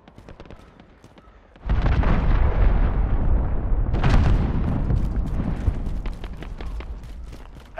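A cruise missile strike in Call of Duty: Modern Warfare lands as a sudden loud explosion after a quieter stretch, followed by a long rolling roar with a second surge of blast and crackling debris.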